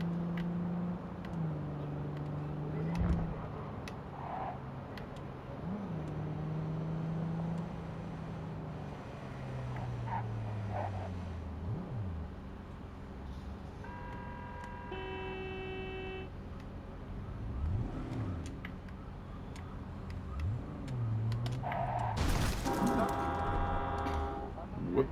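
A summoned car in the Cyberpunk 2077 video game driving up, its engine hum rising and falling in pitch under a steady game soundscape, with a short horn-like tone and scattered effects, while a voice talks at times.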